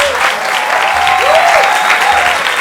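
An audience at a talk claps in sustained applause, dense and loud for the whole stretch, with faint whistles or cheers riding on top.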